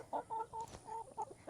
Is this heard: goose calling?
yes